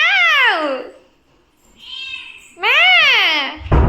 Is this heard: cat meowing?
yes